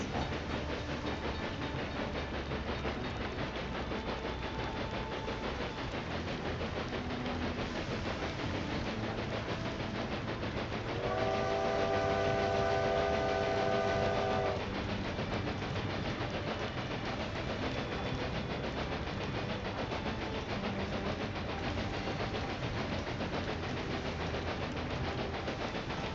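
A train rolls along in the Railway Empire 2 video game: a steady rail rumble runs throughout, and a clear whistle or horn tone sounds briefly in the middle. The rumble is moderate in level and continuous.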